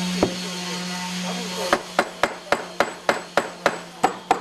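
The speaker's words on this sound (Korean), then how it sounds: "나무 망치로 두들기며 한 번 더 손을 본다" Wooden mallet knocking on the joints of a square cypress (hinoki) wood bathtub during assembly, about nine sharp, evenly paced taps after a steady workshop hum, close and loud.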